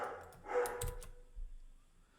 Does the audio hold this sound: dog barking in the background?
yes